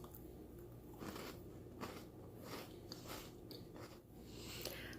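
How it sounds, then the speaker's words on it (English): Crunchy MRE snack pack cookie bitten and chewed up close, giving a steady run of dry, crackling crunches across five seconds with no talking over them. "when I was chewing it, it's very crunchy"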